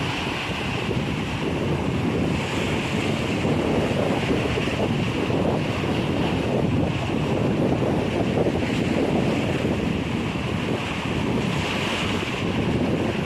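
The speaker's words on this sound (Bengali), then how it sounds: "আজকে ঢেউটা সুন্দর লাগছে, দেখো কত সুন্দর লাগছে।" Ocean waves breaking at low tide, a continuous loud wash of surf with wind buffeting the microphone, steady and close, with no voices.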